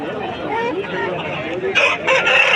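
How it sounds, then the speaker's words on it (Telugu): A rooster crows loudly and close by at a poultry market in Vijayawada, its call rising near the end after a stretch of background voices. "కోడిపుంజనైతే చూడొచ్చు చాలా బాగుందన్నమాట"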